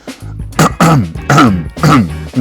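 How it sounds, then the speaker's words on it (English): A person clears their throat four times in quick, loud, close bursts with short gaps between them. "excuse me, I had to clear my throat again."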